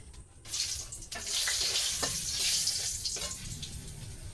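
Two dry red chillies and two bay leaves hit hot oil as a tempering for meat, giving a loud, steady sizzle and crackle with a few sharper spits throughout.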